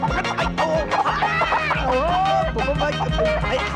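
A panicked hen clucking and squawking in a Hindi action film scene, loud and close in rapid bursts, with excited shouting voices over it and background music.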